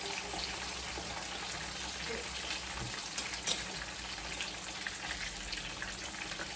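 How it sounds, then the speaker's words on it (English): Plantains fry in oil in a pot with a steady, dense sizzle and crackle that runs the whole time, close and fairly loud, with small pops now and then and no talking. "I'm gonna finish letting this fry"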